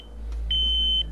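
A radiation dosimeter near the ruined Chernobyl reactor, registering about 40 times natural radiation levels, gives a brief high beep and then a sustained shrill electronic tone over a low background hum.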